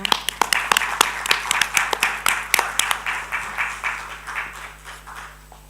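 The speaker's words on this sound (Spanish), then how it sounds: "con un aplauso" Scattered applause at a book launch and tribute ceremony, a modest group clapping in uneven bursts that build briefly and then thin out and fade.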